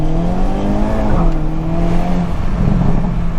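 2022 Hyundai Kona N in N mode with a rumbling, raspy exhaust note, heard close and loud in a brief burst with uneven crackle-like texture from the engine.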